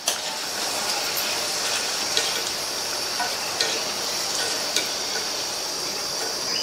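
Sliced okra fries in hot oil for a crispy South Indian vendakkai fry, giving a continuous loud sizzle with a few sharp spikes from stirring, and no voices.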